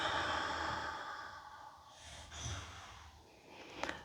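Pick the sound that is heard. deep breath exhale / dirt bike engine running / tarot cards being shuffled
deep breath exhale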